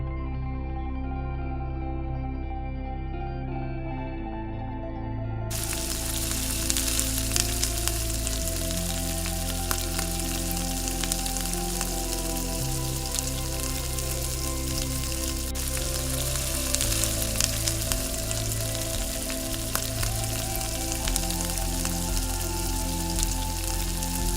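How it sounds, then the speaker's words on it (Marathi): Surmai fish fries in oil over low heat, a steady close sizzle and crackle that runs continuously without pause, growing brighter and denser after the first few seconds. "हलक्या आचेवर माशांना सोनेरी तपकिरी रंग येईपर्यंत तळून घ्यायचं आहे"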